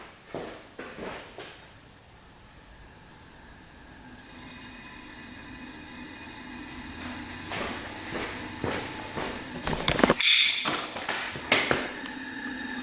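Air hisses steadily from the carburetor of an old motorcycle that sat for 27 years, escaping through an attached hose, a faint continuous rush with occasional small clicks and clunks nearby.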